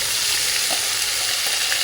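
Steady, loud sizzling of onion paste frying in hot mustard oil, a dense continuous crackle with no voices.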